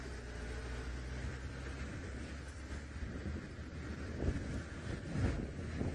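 Outdoor wind buffets the microphone during a safari drive, a steady low rumble with occasional gusts and nothing else prominent.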